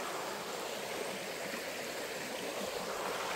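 Backyard creek water flows steadily on a Sunday morning, a continuous close rushing and bubbling with no break and no voices.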